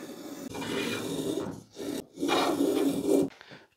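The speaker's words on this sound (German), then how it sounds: "mit dem kleinen Sims-Hobel breche ich jetzt hier die Kanten" A small rabbet plane takes the edges off a wooden piece in two long rasping strokes, close and fairly loud, with a brief pause between them and no talking.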